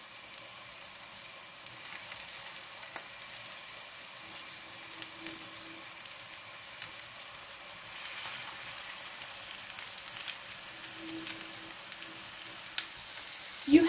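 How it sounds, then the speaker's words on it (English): Meatballs frying gently in hot fat in a pan, a faint, even sizzle and crackle running steadily throughout, close by and without speech, with a small clatter right at the end. "Now I'm going to gently put in the meatballs."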